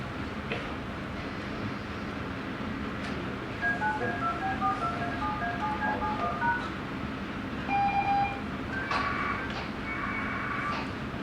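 DTMF touch tones sent over a ham radio link for APRStt, a quick series of short beeping tone pairs over a constant hiss of static, followed by a longer tone burst near the end.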